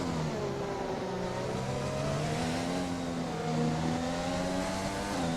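A Renault-powered race car engine in the F1 2020 video game drones loudly and continuously, its pitch rising and dipping slightly through gear changes without any voices over it.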